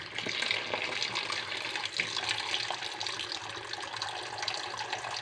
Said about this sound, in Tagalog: lagyan nyo ng tubig.